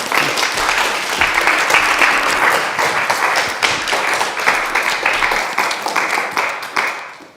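An audience in a college lecture hall applauding to welcome the lecturer, a sustained dense round of clapping that tapers off near the end.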